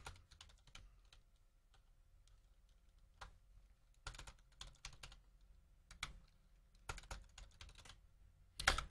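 Someone types on a computer keyboard, with quiet, close keystrokes that come in irregular bursts and short pauses.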